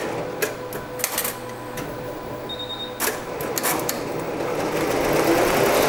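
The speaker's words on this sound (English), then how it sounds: "So your embroidery machine can be faster, your stitch can be faster, can be slower," An embroidery machine runs steadily, its stitching heard as a dense mechanical whir with irregular clicking taps, fairly close and moderately loud throughout.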